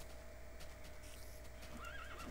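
In a video game, a horse gives a brief, faint whinny near the end, over steady background ambience with soft hoof-like clatter.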